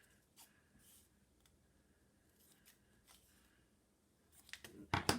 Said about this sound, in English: I'm going to cut them down to make a little fringe.